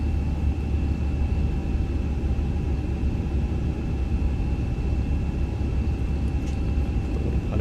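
iniBuilds A350 engines in climb thrust inside the MSFS2020 flight simulator, a loud, steady airliner roar with a constant broadband rumble and faint whining tones, no speech.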